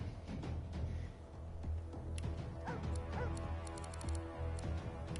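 Dog barking and yipping in the fantasy role-playing game Divinity: Original Sin II, a few sharp barks over a busy bed of game ambience and clatter, fairly close.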